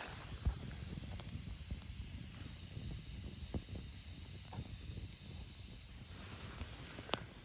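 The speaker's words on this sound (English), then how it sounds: "from one here it's all like sizzling. All the water evaporating." A green stick burning in a campfire hisses and sizzles softly as sap and water bubble out and evaporate, a faint steady hiss with occasional small pops and crackles.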